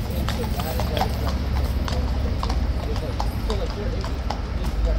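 Horse hooves clip-clop steadily on pavement while the horse stands guard duty near Knightsbridge, a continuous busy outdoor crowd and voices murmuring underneath throughout.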